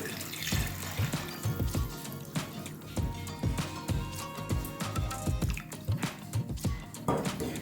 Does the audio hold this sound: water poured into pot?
yes